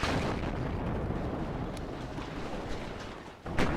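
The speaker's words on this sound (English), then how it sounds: "they're doing direct strikes on this area" Artillery strikes landing in the WARNO war game, a steady low rumble of distant blasts and rolling detonations, ending with a sharper, closer explosive burst.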